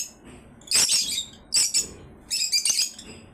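A pigeon's short calls and wing flutters come in three bursts close by, with quiet gaps between them.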